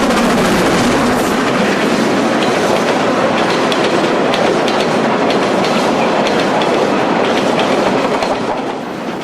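A freight train of empty mine wagons on China's Hegang railway system, climbing a steep bank with a banking locomotive, rumbles past close by with steady, loud clickety-clack wheel noise throughout, no voices.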